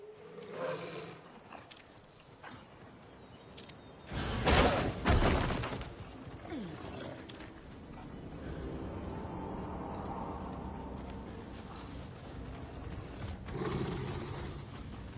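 Dogs or wolves snarl in Alan Wake 2, with a loud, harsh roaring burst near the start that settles into a steady, low growling rumble lasting several seconds.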